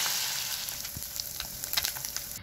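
Small chuno maach fish frying in a pan, a steady close hiss of hot oil with faint crackles and a few soft scrapes, no voices.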